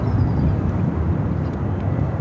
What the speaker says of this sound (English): Bombardier Challenger 350